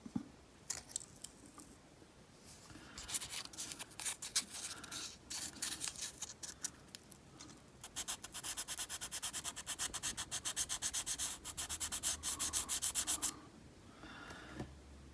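Rust being sanded off the leaf springs of an old Ranger, a quick run of close, rasping scrubbing strokes that build into a dense, rapid stretch before stopping, with no talk.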